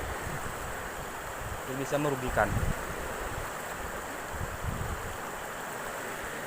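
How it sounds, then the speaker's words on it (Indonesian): A flowing river stream rushes steadily as someone wades across it outdoors, a constant broad watery hiss with wind buffeting the microphone; someone speaks briefly partway through. "saya masih melewati sungai-sungai"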